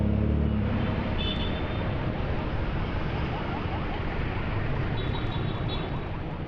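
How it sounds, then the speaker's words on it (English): Steady road traffic noise heard while cycling downhill in the rain near Tagaytay, a continuous broadband roar of car engines and wet tyres on the road, close and loud throughout with no breaks. "Stuck in traffic."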